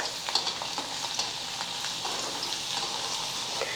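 Garlic frying in hot oil for a raw mango pickle, a close, steady crackling sizzle with scattered small pops, continuous for the whole stretch and without any talking.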